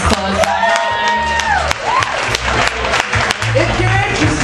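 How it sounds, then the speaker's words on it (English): A crowd at a poetry show in a jazz club in Lawrence, Kansas breaks into loud applause with cheers and whoops, voices shouting over continuous clapping, close and energetic throughout. "You could give him one more round of applause"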